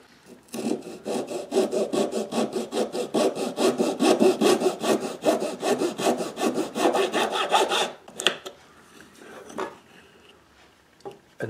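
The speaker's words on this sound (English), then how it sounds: "if I cut a straight 90 degree line in this, I can use this fixture as kind of a miter box." Hand saw cutting a straight 90-degree line through wood held in a fixture used as a miter box for a classical guitar rosette, with fast, even back-and-forth strokes for about eight seconds before it stops and a few light knocks follow.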